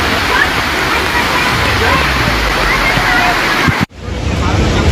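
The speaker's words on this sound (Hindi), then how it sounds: "राजकोट में सोमवार रात 3 बजे से लगातार तेज बारिश हो रही" Heavy monsoon rain pours in Rajkot, Gujarat, with rushing floodwater through flooded streets: a dense, loud, continuous roar of water that breaks off abruptly near the end.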